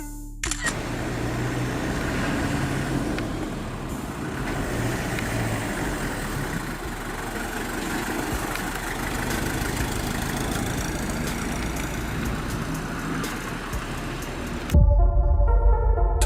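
A Toyota Land Cruiser diesel engine idles steadily, a continuous low rumble with mechanical texture held for about fifteen seconds, ending in a short louder thump.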